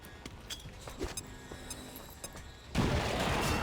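Grenade in XCOM 2, a sharp, loud blast bursting in near the end after scattered muffled thuds and clicks, the roar lingering to the close.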